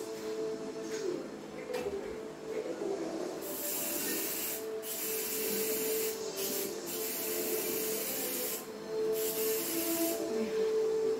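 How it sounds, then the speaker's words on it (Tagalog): Bug spray is sprayed onto tiles in long, steady hissing bursts, close and continuous, broken by several brief pauses between squirts, with no one speaking. "yun, mag-spray na naman ako guys."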